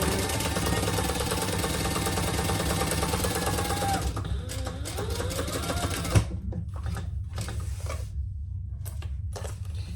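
A sewing machine stitches a row of stitches on a small sling bag, a fast mechanical whirring patter running steadily for about four seconds, then slowing into separate clicks and short bursts before stopping.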